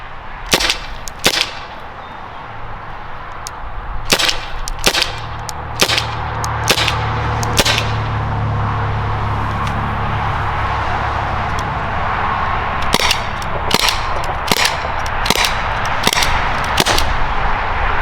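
Byrna compact non-lethal launcher firing .68 and .61 caliber rounds at a target from 10 feet, a series of sharp loud pops in clusters over steady background noise, with no talking.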